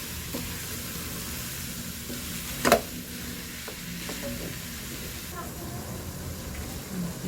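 Ground pork, one kilo, frying in a pan while being stirred for a no-bake Filipino-style spaghetti sauce, giving a steady low sizzle with scraping spatula strokes and a brief clatter near the middle.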